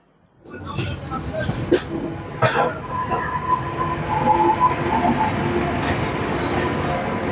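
The Ahmedabad Howrah Superfast Express rumbles at a station platform, a broad steady roar of the moving train with a few clanks and rattles, while people talk nearby.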